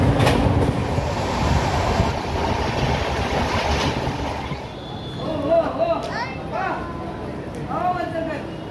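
A train at Nagda railway station rumbles steadily, with a fairly close, continuous roar and faint wheel noise as voices talk over it.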